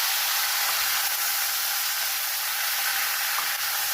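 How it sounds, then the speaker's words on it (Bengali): Cut, washed potato and ridge gourd frying in hot oil in a pan give a steady, loud, even sizzling hiss that runs unbroken throughout, with no voices. "তেল গরম হয়ে গেছে, যেটা বলেছিলাম, কেটে ধুয়ে রাখা আলু আর ঝিঙে।"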